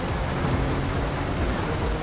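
Rain falls during a police patrol in the video game GTA V, a dense continuous hiss of downpour filling the scene at steady volume without any talking.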